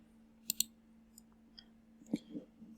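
A computer mouse clicked several times while working on a website: two quick clicks close together, then a few softer isolated clicks, a louder click and a final faint one, all close-up over a quiet steady hum.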